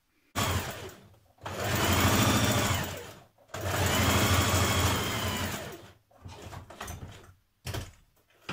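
A sewing machine runs long straight gathering stitches on a Simplicity 8052 top in two sustained bursts with a pause between, then short stop-start runs, close and loud.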